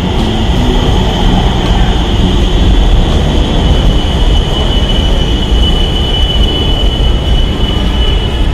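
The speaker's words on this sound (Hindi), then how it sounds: "This train terminates here." A Kanpur Metro train arrives in a loud, continuous rush of rolling rumble, with a steady high wheel squeal running through it, heard close and without talking.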